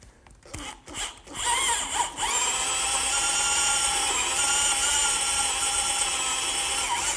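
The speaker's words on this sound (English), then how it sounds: "I've just drilled the holes for my bolts" A power drill bores bolt holes through wooden cross braces, a few short bumps and handling knocks giving way to a steady, high-pitched whine that runs loud and unbroken to the end.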